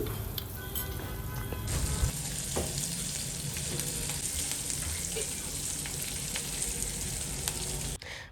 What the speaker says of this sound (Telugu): పులిహోరకి ఇంకా తాలింపు పెట్టుకుంటున్నాను.